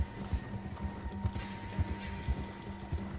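Horse hooves trotting in Red Dead Redemption 2, a steady rhythmic clip-clop of low thuds at roughly two beats per second, moderately close over a soft ambient game background.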